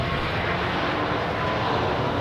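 An aircraft powering up and taking off at Melbourne Airport, a loud, dense, unbroken engine roar that fills the scene at close range with no voices.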